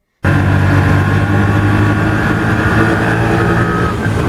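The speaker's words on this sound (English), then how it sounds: "Currently riding in a rickshaw" Steady engine drone from inside an auto rickshaw riding through Pune, India, loud and continuous with a constant low motor hum and road noise, no voices.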